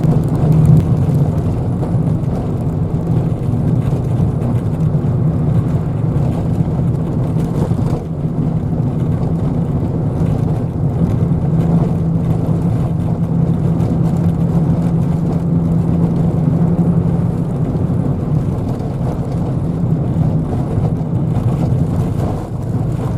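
A car drives along a snowy road in Les Orres, its engine and tyre rumble holding as a steady, even low drone with muffled road noise throughout.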